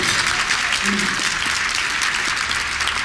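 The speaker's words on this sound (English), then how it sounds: "So let's give them a big round of applause." An audience applauds loudly, with dense continuous clapping that fills the room at an even level from start to finish.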